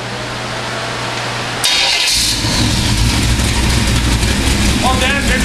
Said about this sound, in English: Well, then, engine fires right up. Valve train nice and quiet.